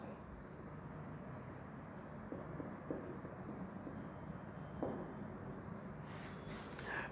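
Chalk or marker on a classroom board as a teacher writes a heading on heating effects: soft, scratchy strokes with a few taps, close but fairly quiet over room noise.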